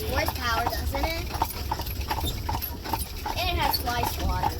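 Horse hooves clip-clop steadily pulling an Amish buggy through Bird-in-Hand, Pennsylvania, a regular rhythmic trot close by, with people talking over the hoofbeats throughout.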